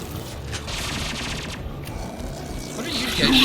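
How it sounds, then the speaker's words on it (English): Squadmates in Mass Effect 2 pumping gunfire into a corpse, a dense, continuous spray of sci-fi shots close up, with combat noise building toward the end. "Oh, you guys were just shooting a corpse."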